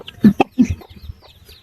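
A protective desi naked-neck hen with young chicks gives a few sharp, close clucks in quick succession, loud and near, then falls quiet.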